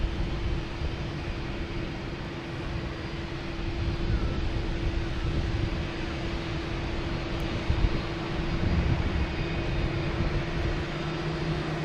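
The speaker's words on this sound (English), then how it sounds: "we have a 737 coming in" A United Airlines Boeing 737 arriving from LAX comes in to land at Boston Logan Airport, its steady, even engine roar filling about twelve seconds with a constant low drone.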